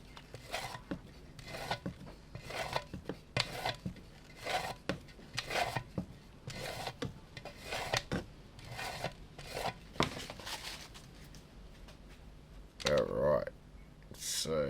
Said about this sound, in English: Give this a bit of a scrape down here.